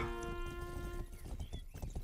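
Rapid clip-clop of a video game horse's hooves at a fast gallop, steady and close, over a droning background tone that fades partway through.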